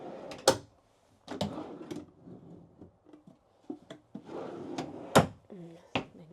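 Drawers in an RV slide open and shut with several sharp wooden knocks and rattles, close by, spaced irregularly amid quiet movement and a little talk.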